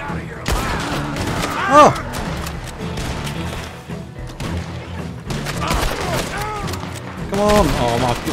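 Gunfire rings out in Red Dead Redemption 2, with shotgun blasts and rapid bursts of shots cracking in quick succession over a noisy in-game scene, while a player exclaims loudly over the shooting.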